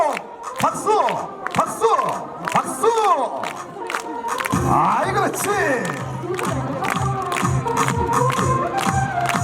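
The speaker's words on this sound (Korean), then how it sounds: "그래서 박수를 쳐주시오." Outdoor crowd at the Welcome to Joseon spring festival at a Korean folk village square claps, whoops and cheers loudly in bursts. A costumed host calls out over the noise, with music starting up midway.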